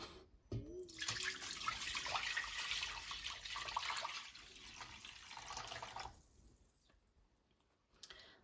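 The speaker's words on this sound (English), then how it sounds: "You're gonna add some water." Water from a measuring cup pours into a pot on a stovetop while making creamy pasta, a steady splashing rush for about five seconds that trails off, then a soft clink near the end.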